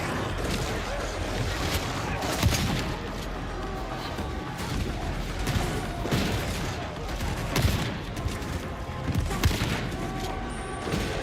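A weapon fired from the hip in the video game Warhammer 40k: Darktide makes dense, repeated loud bursts of gunfire with crashing peaks that keep going throughout the clip.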